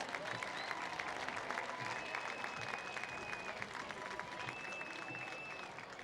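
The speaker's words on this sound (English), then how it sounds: "let's have another round of applause for the Trinity Hiller Marching Band" Applause for a high school marching band at a 2015 Trinity at Belle Vernon football game broadcast, a steady crowd clapping spread across the stands for several seconds with faint background tones.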